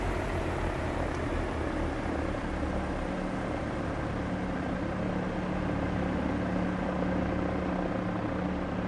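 A piston twin aircraft taxiing gives a steady, close engine drone and hum that holds evenly throughout with no gaps.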